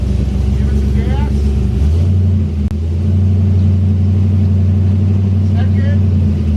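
A 1000hp turbocharged Chevrolet Colorado with a tailgate exit exhaust, rumbling loudly and close, its engine note dropping and then settling into a deeper steady drone, with people speaking briefly over it.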